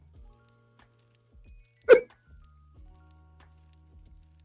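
A single short, sharp dog bark near the middle, loud against an otherwise quiet background with faint low hum.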